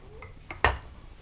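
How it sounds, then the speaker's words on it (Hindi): A spoon clinks against a glass while lemon and honey are stirred together, with a few light taps and one sharper, louder clink, close up in a quiet room. "आप पहले लेमन और शहद को मिक्स कर लें।"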